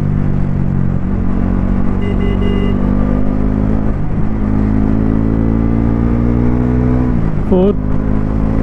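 A 2024 Bajaj Pulsar NS400Z motorcycle engine pulls hard through the gears, a loud, close, continuous drone that climbs in pitch with brief dips at each shift.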